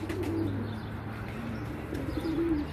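A pet pigeon cooing softly nearby, a couple of low throaty coos over faint background hum, with no talk.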